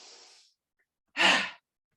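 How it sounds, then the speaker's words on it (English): A single forceful breathy exhale through the mouth during a yoga breathing exercise, close and clear, following a softer airy breath and a brief silence. "Inhale through the nostrils, reach up, look up, and then exhale through the mouth."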